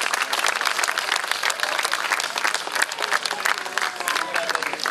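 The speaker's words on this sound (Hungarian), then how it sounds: "Kérem, hogy nagy tapsot a zenekar tagjainak." A festive hall audience in Isaszeg gives sustained applause for the band members, dense overlapping claps with some crowd noise continuing steadily and loudly throughout.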